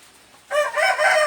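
A rooster in a Thai Isan village crows once, loud and close, a long drawn-out call that starts abruptly and carries on without other sounds.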